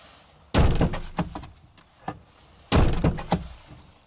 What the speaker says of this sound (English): close and open the driver's door twice again.